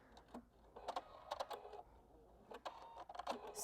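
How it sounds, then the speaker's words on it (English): A home sewing machine stitches the seam of a patch pocket in short bursts of rapid needle clatter, separated by brief pauses, fairly close and moderately quiet, with no one talking. "So I'll just start again in the same seam allowance and finish stitching the seam."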